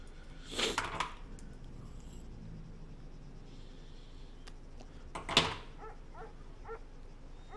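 A dog in the Arma 3 video game gives two short barks about five seconds apart, moderately near and quite faint against a quiet background hum, with a few soft chirping sounds after the second bark.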